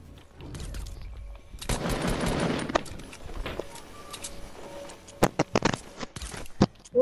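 Video game gunfire: a rapid burst of automatic shots followed by a few scattered sharp single cracks, fairly faint overall with quiet gaps between.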